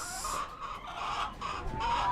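Several chickens cluck in soft, overlapping bursts at close range, with no voices in the mix.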